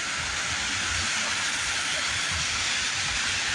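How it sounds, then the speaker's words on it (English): A CSX autorack freight train passes close by as a loud, steady, hissing rumble that holds for the whole stretch, with no voices over it. "No, another train, bro. It's an Autoracks this time."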